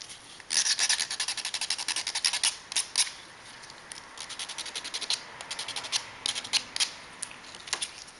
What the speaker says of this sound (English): And sand off tabs on all of those pieces.